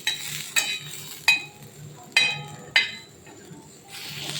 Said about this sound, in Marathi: बघा आपल्या मिरच्या भाजून झाल्या आहेत अशा प्रकारे आपल्याला भाजून घ्यायचे